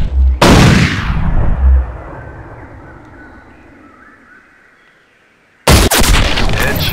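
Two loud, close hunting-rifle shots from the hunting game Cabela's Big Game Hunter, the first followed by a long echoing rumble that fades to near silence before the second sharp blast.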